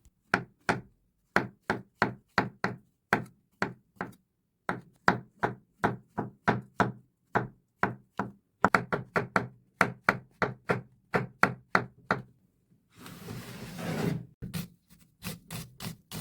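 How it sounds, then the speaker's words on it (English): A knife chops mushrooms on a cutting board in a long run of crisp, evenly paced strikes, close and clear, then pauses before a short burst of rustling scrape. "roughly chop them"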